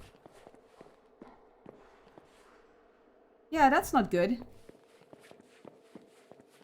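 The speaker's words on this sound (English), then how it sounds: "Those were definitely the noises of someone else walking." Faint, evenly spaced footsteps of an unseen character walking in the horror video game Apsulov: End of Gods, soft thuds under a low hum, briefly interrupted by a short spoken remark.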